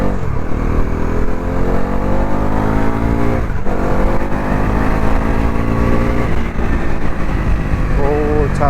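A 2024 Bajaj Pulsar NS400 with its 373cc engine accelerates hard from a standstill towards 100, a steady loud engine drone climbing through the gears, with a rider talking over it.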